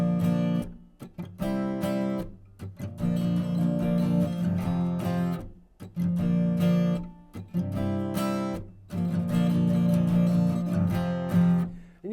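Acoustic guitar strummed in a sixteenth-note down-up pattern playing a song, steady chordal bursts with brief pauses between phrases, close and clear with no talking.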